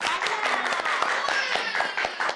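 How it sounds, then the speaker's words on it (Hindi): Dense, lively applause from a crowd, many hands clapping at once in a steady, bright patter at moderate level, with no pauses until it cuts off. "तालियां"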